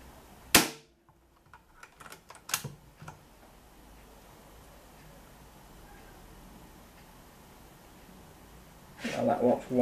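A Hatsan Gladius air rifle fires over a chronograph with a single sharp, loud crack, followed by a few faint clicks and handling noises before a voice speaks near the end.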